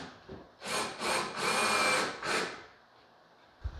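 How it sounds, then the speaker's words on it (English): A power drill drives screws into wooden sheeting on a basement wall, giving four close, loud whirring bursts in quick succession, the third longest, then a quiet tail and a small knock. "I'm gonna put like 2 screws in each one."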